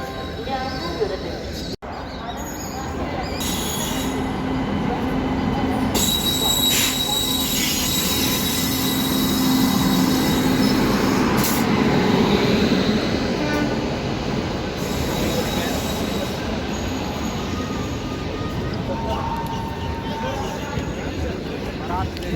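Passenger train pulling into a platform at Ghaziabad, its wheels squealing loudly and steadily over a continuous rumble of railcars, with a crowded-station murmur of voices underneath.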